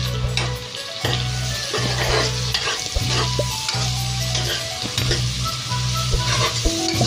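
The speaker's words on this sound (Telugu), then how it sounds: "ఇప్పుడు ఇదే కడాయిలో ఈ 2 ఉల్లిగడ్డలు, పెద్ద సైజు ఉల్లిగడ్డలు 2 కట్ చేసి వేసుకుంటున్నాను" Sliced large onions sizzle in hot oil in a kadai for nethili fish curry, a steady loud frying hiss broken by the regular scrape and clatter of a spoon stirring through the pan.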